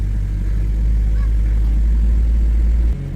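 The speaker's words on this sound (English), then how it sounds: "Started the car." A 2004 BMW E46 car engine with a vacuum leak running at a steady low rumble, loud and close, dropping in level near the end.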